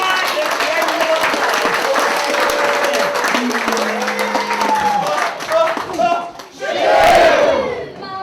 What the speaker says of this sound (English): Give me some applause at the end of the